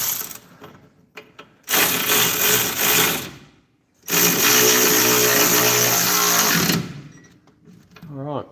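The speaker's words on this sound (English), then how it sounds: "Grab our rattle gun thing and tighten that up." A rattle gun (impact wrench) tightens a nut during a disc brake conversion on a Toyota Corona RT40, giving two loud sustained mechanical bursts of about two and three seconds separated by a short pause, with a voice briefly heard near the end.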